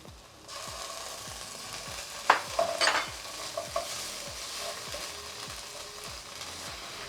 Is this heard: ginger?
yes